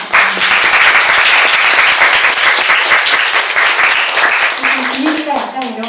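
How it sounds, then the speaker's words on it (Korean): At the close of a book talk, the audience gives the speaker loud, close applause with individual claps standing out, tapering toward the end as someone starts speaking over it. "북토크 수고해주신 우리 선생님께 박수 한번 부탁드립니다."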